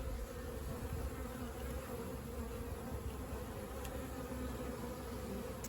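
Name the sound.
honeybee swarm buzzing around a hive box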